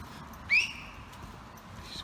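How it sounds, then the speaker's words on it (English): A man outdoors by a canal-side nature trail gives a single short, sharp rising whistle for his dog, fairly faint against quiet background noise. "He's whistling his dog."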